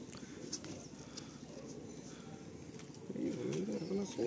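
High flying pigeons coo with low, rolling calls over a noisy background, the cooing growing louder and clearer near the end, with someone talking at times.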